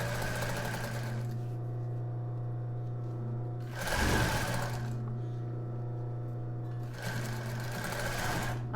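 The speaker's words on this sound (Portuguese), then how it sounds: "vou acompanhar a costura da máquina overlock" An overlock sewing machine stitches embroidered tulle lace with a steady close-up mechanical whir, swelling into louder bursts of faster stitching twice during the run.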